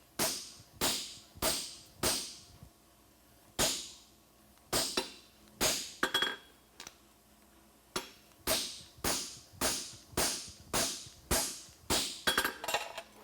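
A blacksmith hammers a horseshoe toe cap on the edge of an anvil, sharp metallic strikes coming in quick rhythmic bursts of several blows with brief pauses between, close and clear with no talking.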